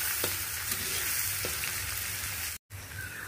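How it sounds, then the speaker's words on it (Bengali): Chopped potatoes fry in a pan with a continuous, even sizzle of hot oil and a few soft crackles, briefly cutting out for a moment near the end. "আলুটা আমার মোটামুটি ভাজা হয়ে এসেছে।"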